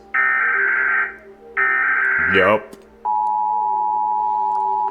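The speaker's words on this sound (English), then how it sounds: "Unexpected emergency alert systems in different countries." United States emergency alert system tone: two loud, sustained harsh buzzing bursts of about a second each, separated by a brief gap, then a falling sweep and a quieter steady single-pitch tone, with a voice speaking briefly.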